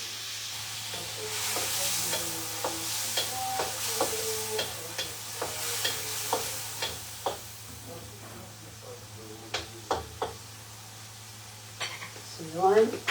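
Pancit canton and sotanghon noodles are stir-fried in a pan, giving a steady sizzle under a regular run of scraping, knocking stirring strokes, close and moderately loud, with a voice speaking at times.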